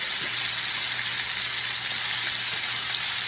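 Ribeye steaks sear in a hot pan with a steady, loud, hissing sizzle that holds constant and unbroken, no voices over it.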